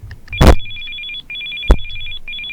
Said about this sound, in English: Girl, answer your phone, please.